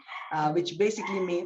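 Dogs bark and yip in a home, breaking in at moderate volume over a person talking.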